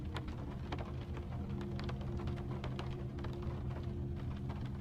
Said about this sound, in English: The rain continues on the windows.